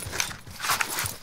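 Hooves clip-clop in a quick, faint series of knocks from a horse in Call of Duty Modern Warfare, set against a noisy, hissy game background.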